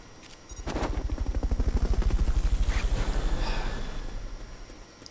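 A helicopter in the video game Metal Gear Solid Peace Walker, its rotor thumping in a fast, steady beat that swells up loud after a sharp start and slowly fades over a few seconds, with no talk.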